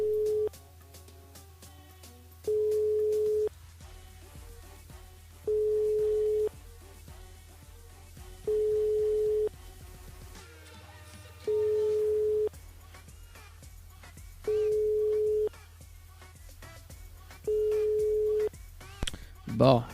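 A telephone line rings out while a radio show host calls a listener: a steady electronic tone sounds seven times in an even pattern, about one second on and two seconds off, over a quiet background.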